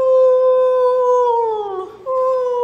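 A voice imitates a howl, a sustained wavering tone that sags and dips near the end before swelling back up, loud and close with no other talk.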